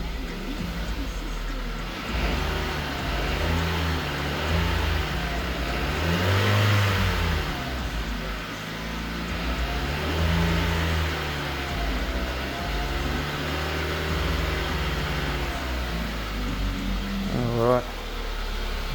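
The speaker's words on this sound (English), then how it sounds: "Just want to give it a few revs." Car engine revved in a garage just after an oil change, rising and falling through several strong revs over a steady idle, close and loud, with the pitch climbing and dropping repeatedly.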